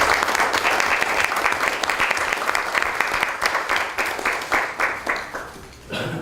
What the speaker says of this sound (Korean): 건강하시라고 박수 한번 보내주시기 바랍니다